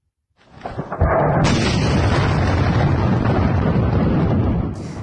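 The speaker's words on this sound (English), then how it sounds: "A drone attack is believed to be behind a massive explosion in western Ukraine." A massive explosion from a drone strike on an ammunition depot and factory in western Ukraine, heard as a sudden loud boom that swells into a sustained roaring rumble lasting several seconds.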